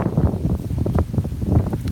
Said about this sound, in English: I got really cold and windy.